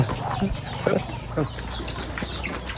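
Chickens cluck in short, scattered bursts nearby amid background chatter and outdoor noise.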